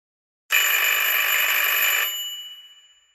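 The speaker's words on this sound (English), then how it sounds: "The buzzer went off loudly again" A wall phone's electric ringer buzzes in one loud, sustained metallic burst lasting about a second and a half, then decays away into silence.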